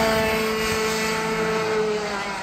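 A go-kart engine being run in with a new piston on a karting circuit, a steady droning whine held at moderate revs, fairly loud and continuous with no pauses.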